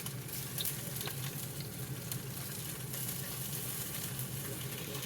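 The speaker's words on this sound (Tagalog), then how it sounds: "fried na natin ang mga tofu" Tofu frying in hot oil, a steady close sizzle with crackling pops running continuously and evenly throughout, no voices.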